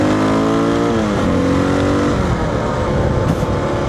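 KLR650 dual-sport motorcycle engine revving and dropping pitch through a gear shift, a loud, close, continuous engine note with falling harmonics mid-ride and steady wind roar.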